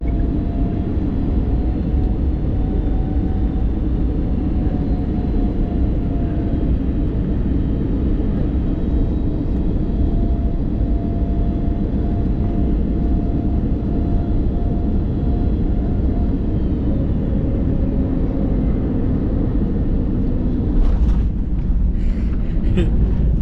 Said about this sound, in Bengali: এই মাত্র ল্যান্ড করলাম, ধাক্কা খেলো জোরে